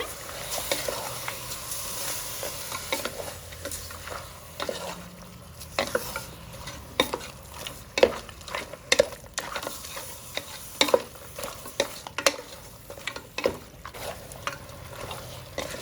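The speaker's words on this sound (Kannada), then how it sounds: "ಮಟನ್ ಎಣ್ಣೆಲಿ ಚೆನ್ನಾಗಿ ಫ್ರೈ ಆಗೋಷ್ಟಲ್ಲಿ" Mutton frying in oil with rock salt and turmeric gives a soft, close sizzle, broken by irregular scraping and clinking as a spoon stirs the pan.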